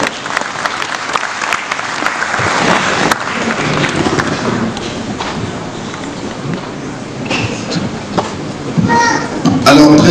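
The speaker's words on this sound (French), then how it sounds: "Ça mérite des applaudissements," An audience applauds maritime veterans at an International Day of the Seafarer ceremony, loud sustained clapping filling the hall with children's voices and crowd chatter mixed in.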